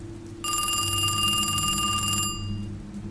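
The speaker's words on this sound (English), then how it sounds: "That's when the phone rang again." A telephone bell rings loudly and steadily in a quiet room for about two seconds, a bright continuous trill that then cuts off, leaving a low hum.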